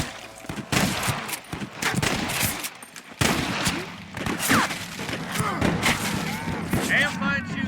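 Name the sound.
gunshots in video game Red Dead Redemption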